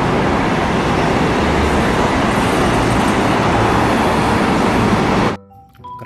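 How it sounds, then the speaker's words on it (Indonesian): Double-decker bus sound effect in a toy-vehicle showcase: a steady, loud rumble of engine and road noise, like heavy traffic passing close, holding evenly for about five seconds and then cutting off. "Mobil bus tingkat."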